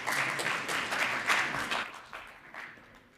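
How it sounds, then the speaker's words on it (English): Audience applause for a speaker at a national dialogue event on oil and gas projects in South Africa; a moderate round of clapping that gradually thins out and fades. "Let's give him a round of applause."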